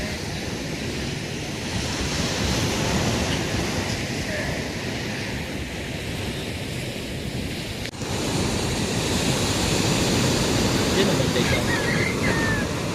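Sea waves crash and wash continuously close by, a steady roaring surf with some wind noise on the microphone, getting slightly louder partway through.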